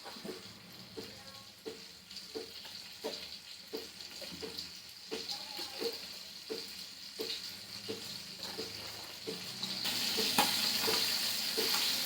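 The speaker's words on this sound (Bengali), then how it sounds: "মাছটা যে ফটফট করে ছিটছে" Fish, likely a small bata fish, frying in a pan beside aubergine and ridge gourd, giving a steady sizzle with rhythmic stirring scrapes and sputters that grow louder and brighter near the end; no one talks.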